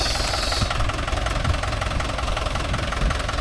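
A Mahindra 575 DI tractor rolling over a stony road, its diesel engine giving a steady loud rumble with a knocking, jolting texture and low thumps throughout, close up.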